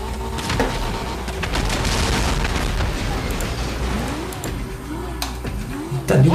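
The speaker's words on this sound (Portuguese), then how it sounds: "já explodiu" Booming explosion in a GTA racing game, a broad loud burst of noise blending with car engine drone and crackling debris, with a rising revving tone later and sharp impacts near the end.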